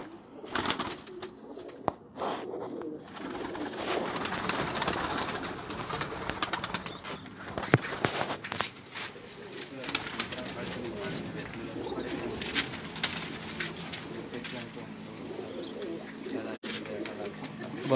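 Pigeons coo repeatedly at close range, their soft throaty calls mixing with other bird chirps and occasional wing flutters, while people talk intermittently nearby.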